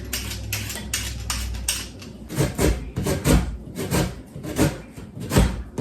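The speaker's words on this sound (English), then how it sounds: "take your ginger and peel it, and then you're going to grate it" Fresh ginger is scraped and grated against a grater, giving rhythmic rasping strokes in close bursts, some faster and some slower, with no talking.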